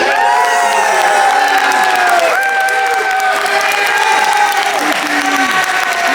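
A large crowd at a Classic Tetris semi-final during a gaming expo cheers, whoops and applauds loudly and continuously, with a bright, dense roar and scattered shouts throughout.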